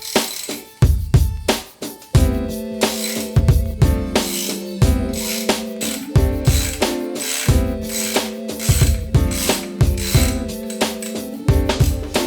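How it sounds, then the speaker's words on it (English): A hand ratchet clicks as it undoes the rear suspension bolts on a wrecked Ducati 959 road bike, quick loud metallic ratcheting strokes repeating in bursts with short pauses between turns, close up and alone. "Undo the front bolt, undo the back bolt."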